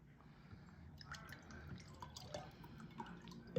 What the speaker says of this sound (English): I'm just going to pour it in